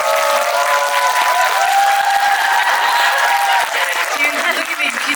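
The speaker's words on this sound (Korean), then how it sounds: "장항 감독님께 박수 한번 치고 싶고요." Audience members at a film screening event applaud director Jang Hang-jun with a loud, continuous burst of clapping that holds steady for several seconds.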